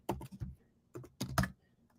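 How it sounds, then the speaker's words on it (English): Keystrokes on a computer keyboard come in two short clusters of quick, close taps separated by a brief pause, with no talking. "having a tough time with my typing today"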